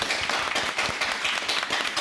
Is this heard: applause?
yes